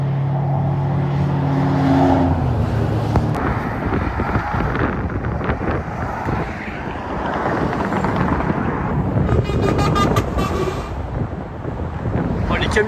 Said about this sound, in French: GT3 Touring et F8.